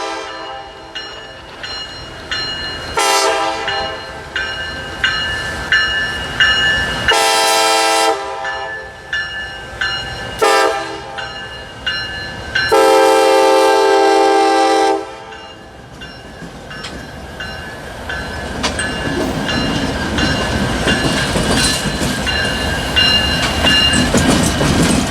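A Kansas City Southern office car special train rumbles past with clattering wheels while its horn sounds in several loud blasts, then the rolling noise continues alone.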